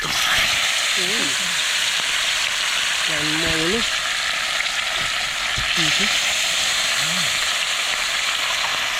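Steady, loud sizzling of fish frying in hot oil fills the whole stretch, with a few brief voices speaking over it.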